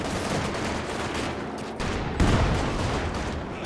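A ZiS-3 gun barrage pounds away in Company of Heroes 2, a steady wash of battle noise with repeated shots and a heavy impact landing midway, loud and continuous.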